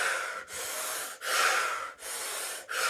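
Slow, deep breaths drawn close to the microphone, four long airy inhales and exhales rising and falling in a steady rhythm with short pauses between, alone and without talk.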